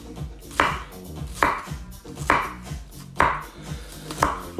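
A knife chops through an onion on a board in five evenly spaced, crisp strikes, close and clear with no talking.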